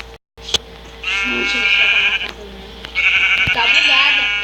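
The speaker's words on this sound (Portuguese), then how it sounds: "Olha aquela ovelha." Two drawn-out sheep bleats from a Minecraft sheep, loud and close, with an abrupt click and brief gap before them and people talking around them.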